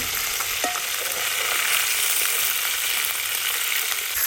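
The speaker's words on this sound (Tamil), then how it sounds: "மீன் ஒரு அளவு பொரிஞ்சிச்சு." Fish frying in hot oil for a village-style fish curry gives a steady, dense sizzle that stays close and loud throughout, with a brief faint tone near the start and no talking.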